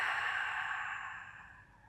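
A long, steady breath pushed out during a beginner Pilates mat workout at home, a soft airy exhale that fades gradually over two seconds, close by, with no talking.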